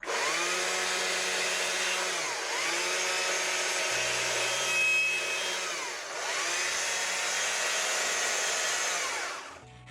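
Chainsaw carving a wooden sunflower from a block, engine whining loud and close with a steady high drone that dips and rises in three long cuts.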